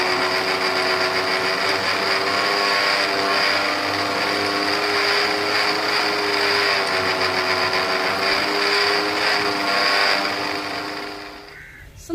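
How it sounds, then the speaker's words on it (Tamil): A mixer grinder grinding coconut with water whirs steadily at high speed for several seconds, a dense continuous motor drone that eases off slightly near the end. "இப்போ மிக்சியில் போட்டு அரைச்சி எடுத்துக்கிறோங்க"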